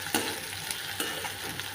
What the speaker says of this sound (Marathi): थोडासा कांदा बदामी होईपर्यंत आपण परतून घेऊ।